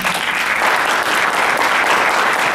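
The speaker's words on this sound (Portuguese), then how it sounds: "Uma salva de palmas." Sustained applause from an audience at a cultural seminar on tattooing in Mogi das Cruzes, a dense, steady clapping that stays loud and even throughout without voices rising above it.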